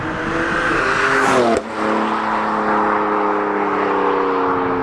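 A 2020 BMW M4 Cabriolet Competition is driven hard, its engine loud and close inside the car, revving with rising and falling harmonic tones through a brief shift dip, then pulling steadily.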